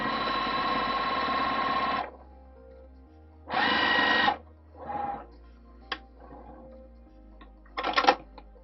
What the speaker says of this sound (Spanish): Voy a coser de acá a acá, haciendo retroceso al principio y al final.